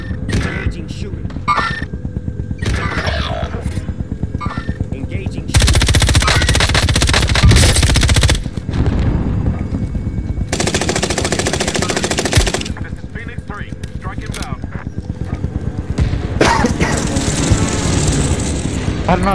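Rapid automatic gunfire bursts in a Warzone battle royale match, loud and close, several long crackling volleys separated by quieter stretches with game radio voice and player talk in between.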